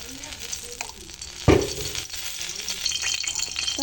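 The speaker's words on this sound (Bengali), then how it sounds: "কড়াইটা গরম হয়ে চলে আসছে, আমি তেল দিয়ে দেবো" Oil heats in a hot wok before dried loitta fish goes in, giving a steady soft sizzle and crackle with a sharp clatter near the start, no voices over it.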